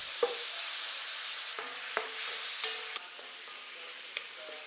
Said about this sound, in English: Add teriyaki sauce and simmer until it's nicely glazed and fragrant.